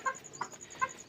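Desi hens clucking inside a small home free-range poultry farm, three short close clucks spaced evenly over about a second.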